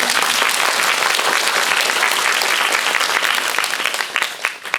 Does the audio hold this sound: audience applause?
yes